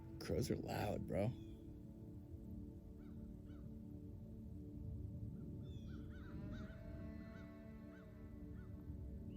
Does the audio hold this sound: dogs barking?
no